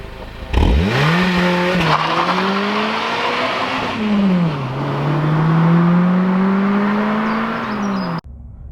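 A Honda Civic Type R EP3 is driven hard, its engine note climbing and falling through the revs with a sustained loud whine and tonal harmonics, heard close from inside the car without talk.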